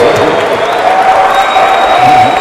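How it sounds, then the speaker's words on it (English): An audience applauds Congressman David Price at a school town hall, a steady, dense wash of clapping with some crowd noise sustained throughout. "Let's give Congressman David Price a round of applause"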